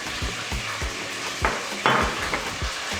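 Blended celery, bell pepper and garlic paste tipped onto onions frying in a pan, a steady sizzle with rhythmic spoon taps and scrapes against the metal, near and moderately loud.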